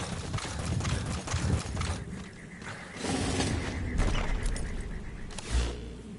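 A horse's hooves clip-clopping across the ground in Metal Gear Solid V: The Phantom Pain, a steady trotting rhythm at moderate volume mixed with game ambience and a few dull thuds.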